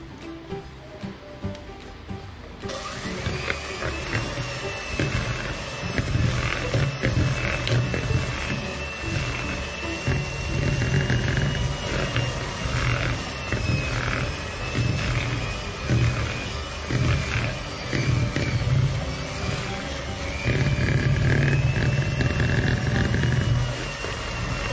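An electric mixer runs at medium speed beating whole eggs one at a time into batter for dry choux pastry, a steady whirring drone with rattling, scraping bowl contact, starting after a brief quiet moment.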